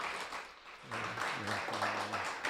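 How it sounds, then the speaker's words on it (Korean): Audience applause at a cardinal research institute symposium, welcoming a bishop to give a keynote lecture; a steady wash of clapping with a voice speaking over it partway through. "박수로 맞아주시기 바랍니다"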